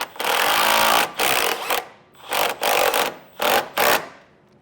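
A power tool drives a self-tapping screw into a side step bracket on a 2019 Ford F-150, heard as loud, close whirring bursts that stop and restart several times in short pulses.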